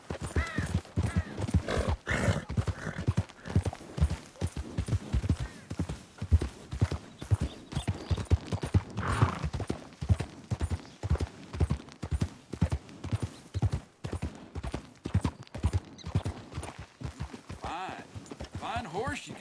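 Horse hooves clip-clop steadily on a town street in Red Dead Redemption 2, a rhythmic stream of hoofbeats running under near-constant talk and game dialogue.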